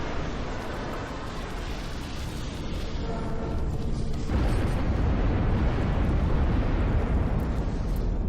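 A rocket barrage in the strategy game Ashes of the Singularity rumbles as a continuous, heavy stream of launches and blasts, swelling louder and deeper partway through, with no talking.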